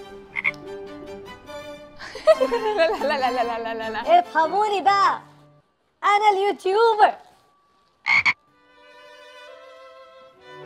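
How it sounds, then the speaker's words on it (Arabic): Loud, repeated croaking in a frog-like call, arriving in several bursts with short pauses and people talking between them. "صوت ضفدع عن جد"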